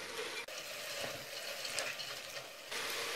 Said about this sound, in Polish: I dalej mieszając będę wszystko podsmażać, aż te warzywa stracą trochę